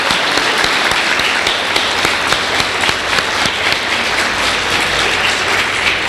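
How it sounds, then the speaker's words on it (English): A crowd claps at a community women's awards ceremony, loud and dense, continuing at an even level throughout with no talking. "Give a round of applause and congratulations to Maureen, Josefina, and Mel."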